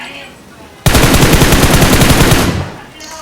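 An AKM assault rifle in the PUBG video game fires a loud, rapid automatic burst lasting nearly two seconds, sharp evenly spaced shots that stop abruptly into quieter game sound.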